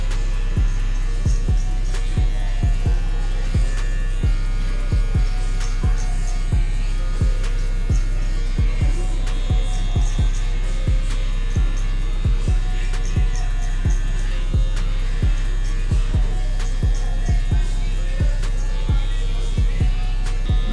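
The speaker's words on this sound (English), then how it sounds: "when I'm using my clipper, I'm only using the corner of the clipper" An electric hair clipper used for a low fade buzzes loudly and steadily throughout, with a rhythmic series of ticking pulses as the blade works through the hair.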